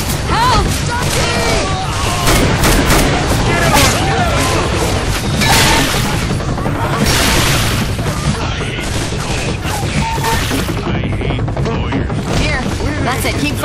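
Heavy gunfire from the zombie shooter video game Left 4 Dead 2 rattles in dense, continuous bursts mixed with booms and crashes, loud and chaotic, with shouted voices running over it.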